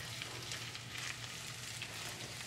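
Onions, pepper and chili frying in hot oil, a steady close sizzle that holds at a constant level through the whole short stretch without any speech.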